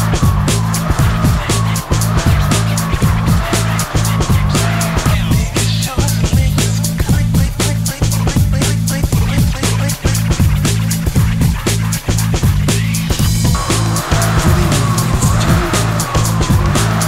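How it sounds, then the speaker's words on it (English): An all-out 12-second sprint on a rowing machine, heard as a loud, rapid, regular whooshing and clattering rhythm of strokes repeating about every second throughout, with no voices. "So we're gonna do a 12 second all out row instead."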